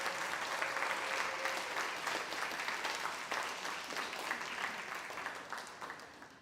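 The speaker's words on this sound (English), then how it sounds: "So I just want to give Jason Hollick a big round of applause for leading us through this" Audience at a Cub Scout Arrow of Light crossover ceremony gives a sustained round of clapping, dense and even, fading slightly toward the end.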